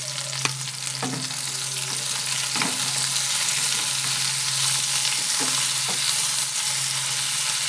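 Bitter gourd fries slowly in a pan with a continuous loud hiss and sizzle, broken by a few sharp scrapes of a spatula stirring it, close by.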